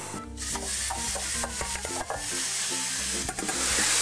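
Minced meat sizzles steadily in olive oil in a hot pan while a utensil stirs and scrapes against it, close up and continuous.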